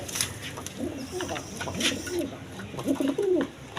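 Jacobin and Holland pigeons coo in a few soft, low rolling phrases, fairly close, with brief bird chirps and light background noise between calls.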